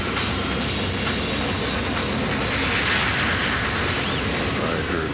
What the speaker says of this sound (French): Capitaine Grubbs de Paname pousse les moteurs au maximum.